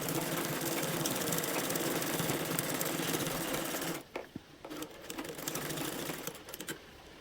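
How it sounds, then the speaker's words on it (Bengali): Sewing machine running a straight stitch to set pleats in fabric, a steady fast mechanical whirr for about four seconds, then stopping and restarting in short bursts. "এই তো চাপ সেলাই দিয়ে আমি সুন্দরভাবে কুচিটা বসিয়ে দিচ্ছি।"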